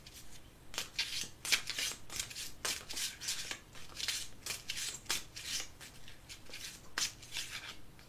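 Oracle cards with a nature spirits theme are shuffled by hand before a card draw, giving close, crisp riffling and flicking bursts in a steady, repeated rhythm with no talking.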